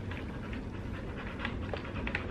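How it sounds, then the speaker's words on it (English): An anxious dog panting steadily and close by, a quick rhythmic breathy rasp running throughout at low, even loudness. "She is panting from anxiety."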